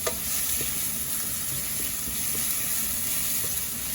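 Pounded chili and garlic paste stir-fries in a pan for Thai chicken with basil, giving a steady, bright, hissing sizzle with a few light stirring taps throughout and no voices.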